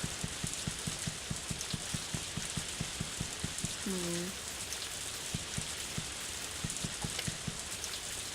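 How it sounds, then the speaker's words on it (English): Steady rain falling in the Harvest Moon: A Wonderful Life farming game, a continuous soft hiss with regular patter of drops and footsteps tapping underneath, a brief tonal chime midway. "It's Nami just standing out in the rain."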